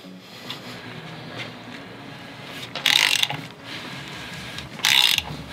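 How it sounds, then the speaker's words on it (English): A ratchet turns a six-cylinder Subaru WRX STI engine over by hand, two bursts of rapid clicking pawl ratcheting spaced a couple of seconds apart, close and fairly loud over quiet garage background. "So let's turn the motor over a couple times."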